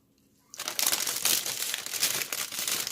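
A steamable plastic bag of asparagus crinkles and rustles continuously and close up after a brief quiet start.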